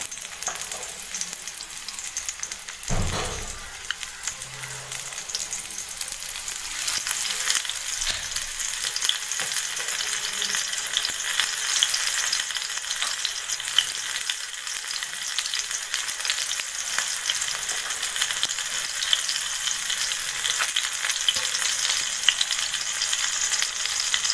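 Fish pieces coated for a rava fry crackle steadily in oil on a flat tawa, a continuous close sizzle with a brief louder burst near the start and no talking.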